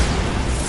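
Bombarda explosion spell cast in Hogwarts Legacy, a sustained loud blast filling the short moment with dense, rumbling low-end noise and no pause.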